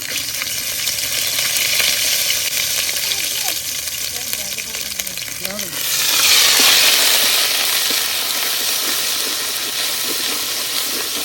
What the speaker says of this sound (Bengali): তেজপাতা, আর দিয়ে দিতেছি কিছু আস্ত গরম মশলা, আদা বাটা, রসুন বাটা